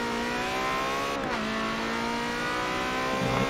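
Game car in Forza cornering, its engine note sustained and loud throughout, pitch dipping briefly midway then holding steady under a continuous high whine, no talk.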